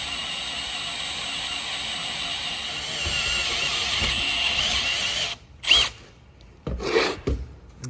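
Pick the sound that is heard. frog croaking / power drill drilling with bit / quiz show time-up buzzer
power drill drilling with bit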